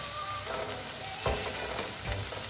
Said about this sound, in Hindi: और प्याज को जो है मैंने इसको ब्राउन नहीं करना, बल्कि मैंने क्या करना है कि इसको सॉफ्ट करना है।